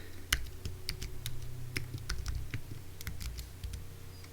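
Fingers tap out a password on a computer keyboard while setting up Windows in Parallels on a Mac, a quick irregular run of crisp close clicks with no talking.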